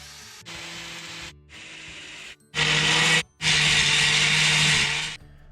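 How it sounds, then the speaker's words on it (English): A wire wheel grinds against the seam between an Audi B7 A4 front wheel bearing assembly and the steering knuckle, in several loud, close bursts of harsh metallic scouring with short pauses between them. "I'm just gonna take a wire wheel and clean up that seam"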